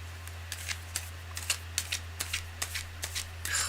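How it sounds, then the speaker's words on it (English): A deck of cards being shuffled, a quiet run of quick crisp riffling snaps and flicks over a steady low hum, ending in a brief rustle. "Oh God, it's really hard to shuffle."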